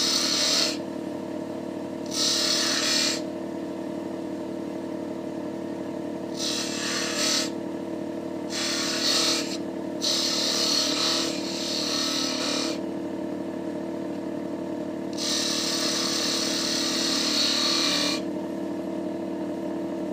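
Skew chisel, 25 mm wide, turning a small chess pawn on a wood lathe: bursts of scraping, hissing cuts come and go over a steady motor hum, loud and close, with no voices.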